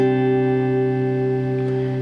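A Horizon Devices Flux Echo pedal runs its reverb with the tails switched off, producing a sustained, steady tonal drone held at even loudness throughout, with no speech.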